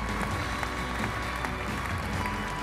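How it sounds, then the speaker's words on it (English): Steady applause from a large audience at a conference general session, honouring an engineering team, loud and continuous with crowd noise throughout. "A big applause."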